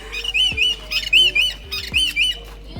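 Small birds chirp close by at a bird park, bright repeated tweets in short clusters with soft knocks and rustles between them.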